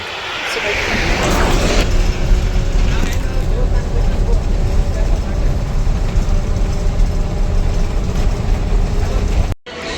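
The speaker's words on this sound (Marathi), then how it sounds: "आपली गाडी आलेली आहे" A bus pulls into a bus stand with a loud, steady, close engine rumble that runs almost the whole time and cuts off abruptly near the end. Faint voices may sit under the engine noise.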